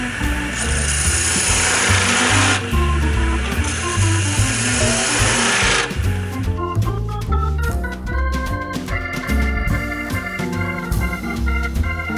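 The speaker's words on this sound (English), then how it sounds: "I've got this tiny little tool that I'll use to carve some grooves in." A small hand tool cuts grooves into a spinning wooden wand on a lathe, making a loud, steady scraping that gives way to more uneven, rhythmic scratching and rubbing.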